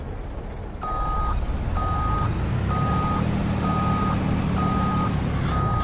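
Truck reversing alarm in Farming Simulator 22 on PS5: six evenly spaced, loud beeps repeating about once a second over a steady low engine drone.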